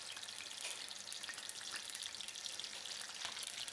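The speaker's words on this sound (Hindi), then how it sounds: "ऑयल को गर्म करने के बाद आप इसमें चिकन डाल दें।" Chicken pieces sizzle in hot oil in a karahi for Peshawari charsi chicken karahi, a steady, soft, close crackle and hiss that runs without a break and with no voices.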